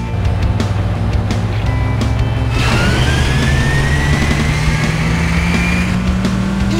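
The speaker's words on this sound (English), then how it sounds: "Gentlemen, start your engines." Race car engines in an Android racing game rev and climb in pitch, a loud steady mechanical roar with rising whines that swell midway, with no talking.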